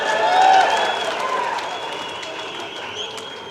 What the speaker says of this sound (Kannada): ಒಡ್ರಿ ಚಪ್ಪಾಳೆ.